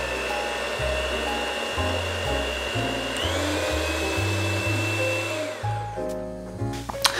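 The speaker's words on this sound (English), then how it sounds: "Just going to place a whisk into our bowl and turn it on a low speed." An electric hand mixer whisk creaming butter and sugar in a bowl at low speed, a steady close motor hum with a slight wavering pitch before it winds down and stops near the end.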